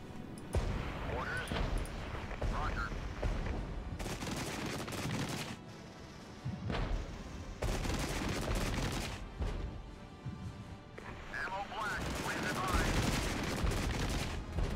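Artillery and gunfire in the strategy game Regiments, with clustered bursts of heavy shots and booms separated by brief lulls, mid-distance and fairly quiet, with a voice talking over parts of it.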